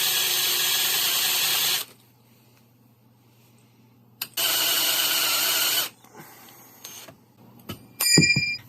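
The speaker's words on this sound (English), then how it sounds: "we're going to have to probably drill out extended holes again" A power drill whines steadily for about two seconds while drilling out rivets on Civic Si seat brackets, stops, then whirs again for a second long burst, followed by faint clinks and rattles of metal.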